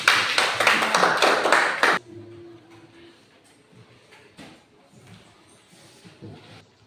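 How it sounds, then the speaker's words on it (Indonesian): A classroom group claps their hands in a short burst of applause lasting about two seconds, followed by quiet room noise with a few faint taps. "Tepuk tangan dulu."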